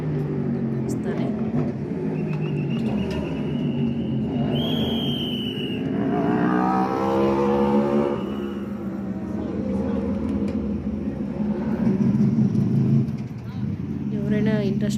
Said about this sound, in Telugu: కారు